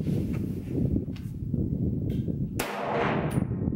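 A Ruger PC Carbine with a 16-inch barrel fires Inceptor ammunition at an outdoor chronograph test, giving a single sharp, loud report followed by a short decaying echo, with no voices.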